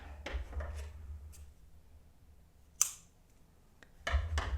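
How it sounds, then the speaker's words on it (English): Scissors snip through crochet yarn at the end of a row of amigurumi hair, giving a few quiet close clicks and one sharp cut in an otherwise hushed room. "We can cut the yarn"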